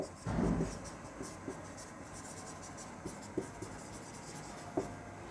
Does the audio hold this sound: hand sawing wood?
no